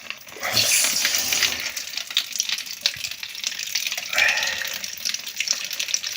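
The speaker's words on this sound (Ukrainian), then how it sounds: "Трошки біжить води, але ну то нічого, що робити." Water runs and splashes from a pipe at a pump station during a pressure gauge replacement, a steady close hiss with small irregular spatters throughout.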